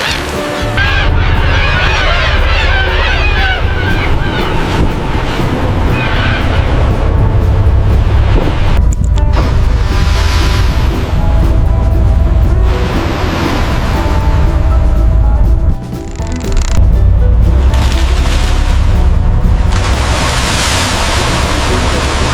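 A fishing boat's engine drones steadily at sea, with low rumbling and dark waves lapping against the hull. The loud, continuous wash carries wind buffeting and brief splashy surges, and a short dip interrupts it about two-thirds of the way through.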